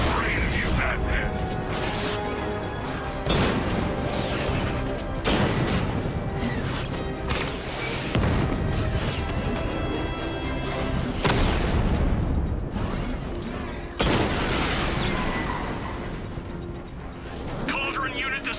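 Explosions and mechanical crashes as a cauldron unit is destroyed in Batman: Arkham Knight, a loud dense barrage of booms and cracks with a few sharp bursts, under a game voice speaking.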